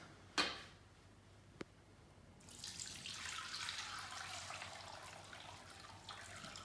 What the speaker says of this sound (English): I'm gonna strain my broth.